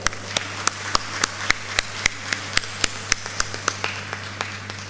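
Scattered, evenly spaced hand claps for a school magazine editorial team at a student felicitation ceremony, sounding like a single nearby clapper or a sparse few over a steady low hum, with no voices.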